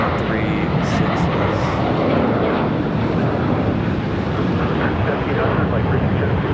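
An American Airlines jet on takeoff from runway 36 left at Charlotte airport produces a loud, dense engine roar that rumbles steadily throughout, close and overpowering.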